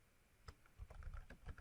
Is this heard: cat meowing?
no